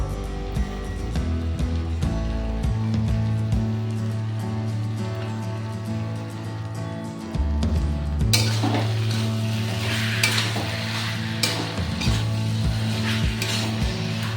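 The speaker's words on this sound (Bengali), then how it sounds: "সমানে শাকটাকে নাড়তে হবে" Taro leaves with hilsa fish head stirred steadily in a sizzling pan over medium-high gas, a continuous frying hiss with scraping spoon strokes and occasional clinks of utensil against metal, no talking.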